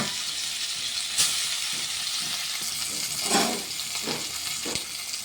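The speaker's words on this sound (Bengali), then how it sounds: "এবারে একটা করে মাছগুলো, বেশি নয় হালকা করে ভেজে নেব" Hilsa fish pieces sizzle and fry steadily in hot oil, a broad continuous crackle with occasional louder spatters and stirring clatter, close up with no talk.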